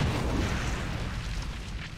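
A grenade blast in XCOM 2 rolls out as a sustained, moderately loud rumble with crackling debris that slowly tapers off.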